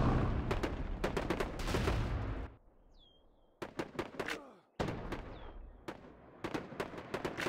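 Rapid bursts of gunfire and heavy shots crackle loudly in a real-time strategy battle, dense volleys dropping briefly to quieter gaps with a few isolated cracks before the barrage resumes.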